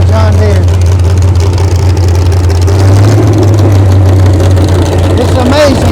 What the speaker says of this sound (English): It's amazing how much noise one of those engines make when it has no muffler.